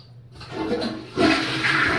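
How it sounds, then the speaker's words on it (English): A toilet flushes close by, a sudden loud rush of water that swells and keeps pouring, heard alone without any talking. "Flush the potty."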